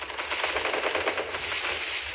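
Rapid automatic gunfire from a video game rattles in a fast, crackling burst, moderately loud and continuous for about two seconds.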